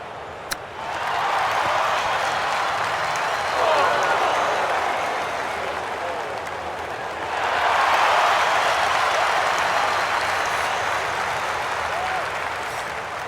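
A big golf crowd at TPC Scottsdale's par-3 16th groans and murmurs after an approach shot misses the green into the rough. The sustained crowd noise rises in two swells, with a commentator talking over it.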